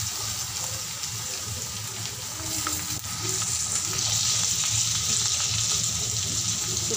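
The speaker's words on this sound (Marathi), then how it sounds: "कढीपत्ता, लसूण घालते मी, ठेचलेला लसूण, आले घातले, छान परतून घेऊया थोडं" Curry leaves, crushed garlic and ginger sauté in a pan, giving a steady close sizzle and hiss of frying with faint stirring.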